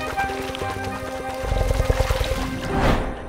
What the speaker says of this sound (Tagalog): Sa tuwing panahon ng mating season, ang mga lalaking Yacare caiman ay gumagawa ng ganitong ingay.